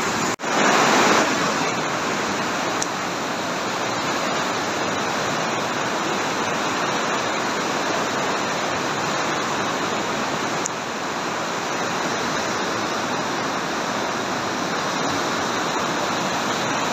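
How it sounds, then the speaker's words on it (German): Rushing water roaring through the Partnach gorge in the Alps, a loud, dense, unbroken roar of torrent and spray heard close by, steady for the whole stretch with a brief bump in level at the start. "Wie das Wasser hier angeschossen kommt."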